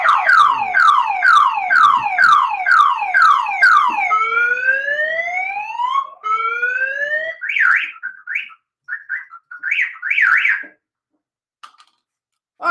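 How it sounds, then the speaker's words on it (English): A car alarm on a 1973-74 Chevy Nova cycles loudly through rapid repeating whoops, then long rising sweeps and short warbling chirps before cutting off, with no talk over it. "that's how you turn off a car alarm"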